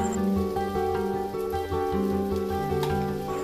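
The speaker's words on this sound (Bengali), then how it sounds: "এখন কাঁকরোল আর আলু একসাথে আরও বেশ কিছুক্ষণ ভেজে নেব" Pointed gourd (kakrol) and potato pieces fry together in a pan, giving a soft, continuous sizzle half-buried under steady background music.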